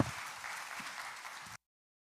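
Audience applause in a church gathering welcoming an elder to speak, a brief burst of steady clapping that cuts off abruptly after about a second and a half.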